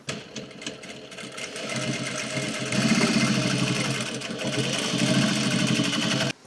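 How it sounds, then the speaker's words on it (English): A sewing machine stitches a seam on a pair of dungarees, whirring steadily and close for several seconds and picking up speed partway through, with no voices. "We can stitch all along that right there."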